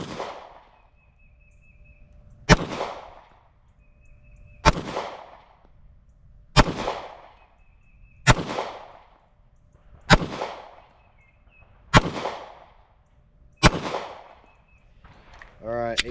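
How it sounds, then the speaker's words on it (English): Pistol fired at a paper target on a range, fitted with a Meprolight MPO Pro S optic: eight sharp, loud shots spaced evenly about every second and a half, each with a short ringing tail, and a metallic clink at the end. "So I've got a full fresh target so we can shoot these final runs through there"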